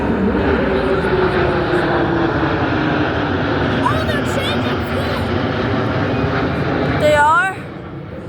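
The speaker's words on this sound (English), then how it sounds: "Listen to the sound of these incredible aircraft" Military jets roar steadily and loudly at an air show, a broad continuous engine rush that falls away near the end, with people talking over it.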